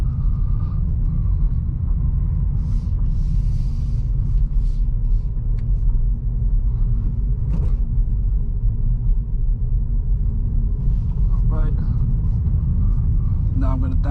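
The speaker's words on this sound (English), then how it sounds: "I'm gonna shift from second to third gear just to get used to shifting up" A 2023 Acura Integra shifts from second to third gear: a steady low engine and road rumble inside the cabin, with a few faint clicks and shifts, while a driver talks over it.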